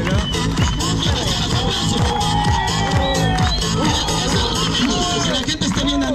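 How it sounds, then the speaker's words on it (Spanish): A lively restaurant crowd shouts, whoops and cheers continuously in a dense, loud, overlapping roar, with voices rising and falling throughout. "¡Venga los gritos!"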